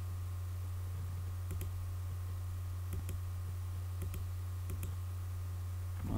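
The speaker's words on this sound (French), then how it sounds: "Je clique sur bouton droit de la souris" A computer mouse right button clicked while working in AutoCAD, giving a few sharp, isolated clicks, some in quick pairs, spaced over several seconds above a steady low electrical hum.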